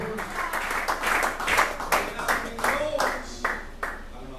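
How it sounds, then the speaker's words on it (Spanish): A church congregation claps and cheers for God during an evangelical service, a lively, rhythmic run of many hands striking together in a roughly regular beat, with voices mixed in among the clapping. "dale un aplauso a Dios"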